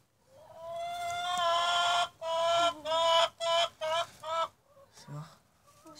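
A Pekin bantam hen cackles after laying an egg, one long rising call followed by a string of sharp rhythmic clucks, close and fairly loud, with no talking over it.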